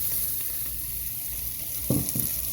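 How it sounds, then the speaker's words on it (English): Sausage and tasso added back into browned vegetables in a pot for Cajun red beans, frying with a continuous close sizzle and a few brief scraping stirs near the end. "vegetables are done browning. I'm going to add the sausage and tasso back in."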